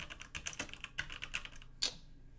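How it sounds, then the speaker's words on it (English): Quiet clicking of keys on a computer keyboard during a Kenshi game session, a quick irregular run of taps with one sharper, louder press near the end. "It won't let me type a name."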